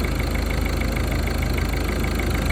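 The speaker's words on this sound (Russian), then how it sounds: "Мотор дергается. Вибрация по кузову идет." A 2008 Ford Focus 1.6 diesel engine idles roughly and unevenly, shaking the body, with a loud, steady, close-up clatter and a faint irregular knock running throughout.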